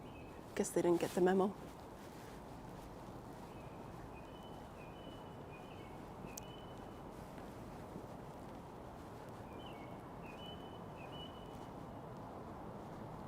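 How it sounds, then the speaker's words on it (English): Small birds chirp faintly on a quiet Toronto street on a Saturday evening, short high repeated calls scattered over soft background hum after a brief burst of talk. "You can hear the birds chirping."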